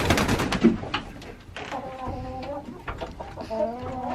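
Chickens in a coop, a mixed old and new flock, cluck and coo in overlapping bursts close by, with higher calls scattered throughout and no talk.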